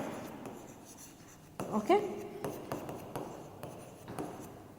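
Chalk or marker writing in white on a classroom board during an English lesson, with a burst of scratchy strokes followed by lighter, intermittent taps and scrapes; a voice briefly speaks.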